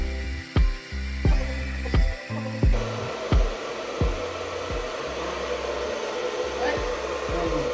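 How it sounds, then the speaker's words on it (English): A hair dryer fitted with a diffuser drying curly hair blows a loud steady whoosh up close, punctuated early on by several sharp thumps and clicks as it is handled and moved. "Now we are going to diffuse."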